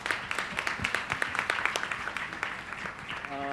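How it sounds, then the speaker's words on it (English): Audience applause at a literature festival session in Bangalore, a steady patter of many hands clapping that carries on for several seconds, fairly close and moderately loud, with no talk over it. "A huge round of applause"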